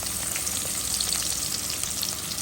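Onion and green chili fry together in oil left over from frying fish, giving a close, dense sizzle with bright crackles throughout and no talking.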